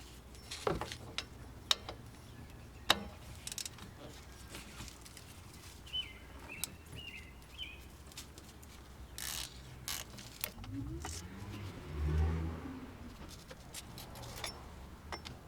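Hand ratchet on 15mm wheel bearing bolts of a Chevrolet Cruze, with quiet scattered clicks and pawl ticks spread across a workshop, plus a faint low whir near the end.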